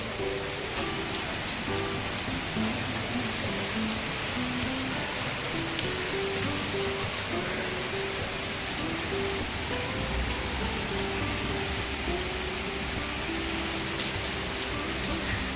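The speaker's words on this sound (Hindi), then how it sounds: "मस्त बारिश हो रही है।" Heavy rain pours down steadily, a dense continuous hiss and patter of drops with no break.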